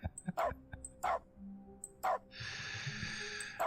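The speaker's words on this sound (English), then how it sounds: "Dog mode just means there's a dog that barks when you interact." A dog in the video game The Stanley Parable gives several short, sharp barks in a row, near and fairly loud, followed by a brief whine and a sustained tonal game sound.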